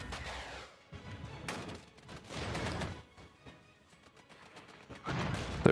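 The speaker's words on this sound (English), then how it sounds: "we're just going to hit this with heavy artillery" Heavy artillery fire in the Regiments war game lands as several deep, rumbling bursts and crashes spaced a second or two apart, with a louder blast at the end.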